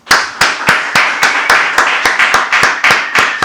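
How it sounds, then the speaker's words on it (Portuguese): A small studio audience claps to welcome a guest onto a podcast, with sharp, evenly spaced claps about three per second, close and loud, with no talking. "vamos receber nosso querido amigo Alain Alan com a salva de palmas."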